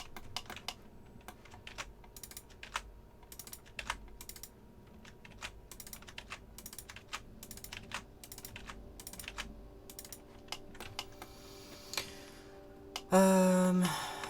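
Repeated quiet clicks from a computer keyboard and mouse come in scattered bursts over a low hum during low-poly modelling, and a louder sustained tone cuts in near the end.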